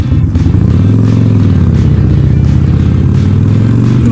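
A Harley-Davidson motorcycle is ridden, its deep, loud engine rumbling steadily with throbbing low pulses and wind noise, recorded close up.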